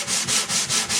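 Sandpaper rubbed over a wooden OM acoustic guitar body during finish prep: five rhythmic back-and-forth hissing strokes in one second, close and loud, with no talk.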